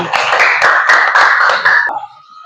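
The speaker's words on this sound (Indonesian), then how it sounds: "tepuk tangan buat teman kita" A small classroom group claps for a classmate, a brisk run of sharp, close handclaps for about two seconds before it quickly dies away to quiet room tone.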